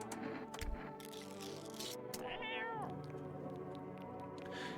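A cat meows in the video game No I'm Not A Human, one clear rising-falling meow near the middle over a steady bed of ambient game music and hum, no talking.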